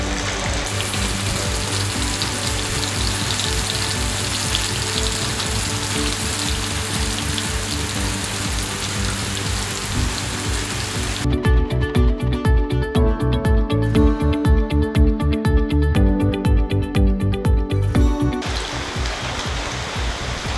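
Beef sizzles loudly and continuously as it fries in coconut oil in a pan for a Kerala-style dry fry, a dense, hissing crackle that grows harsher and more spattery partway through.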